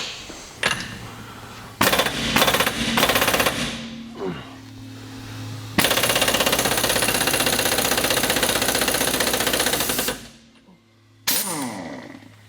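An impact wrench with a socket hammers at a stubborn bolt on a 2JZ-swapped VL Holden Commodore. Loud rattling bursts come close up, first in short stabs and then in one long sustained run, with brief pauses between.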